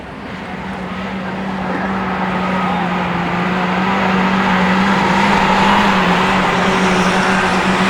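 Autograss racing cars at St Neots lap the track together, a loud, continuous engine roar with a steady drone that builds slightly and holds, several cars running in a pack with no break in the noise.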